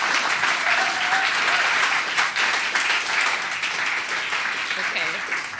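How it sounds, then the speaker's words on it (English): A large audience at a creative coding symposium applauds a speaker, producing dense, loud, continuous clapping that holds steady for several seconds with faint voices mixed in. "Please have a final round of applause for Valerie."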